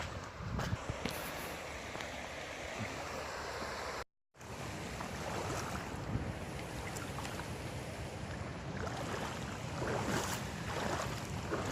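A creek on an Athabasca River canoe trip flows in a continuous, fairly loud wash, with gusts of wind buffeting the microphone and a brief dropout near the middle.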